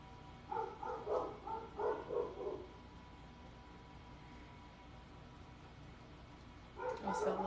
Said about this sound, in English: you hear both of my dogs